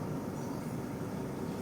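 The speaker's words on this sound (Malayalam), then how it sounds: "ഒരു സ്പെഷ്യൽ ട്രെയിനാണ് തിരുച്ചെന്തൂർക്കുള്ള." A special train bound for Tiruchendur, a steady rumbling roar of rolling carriages close by, heard continuously without voices.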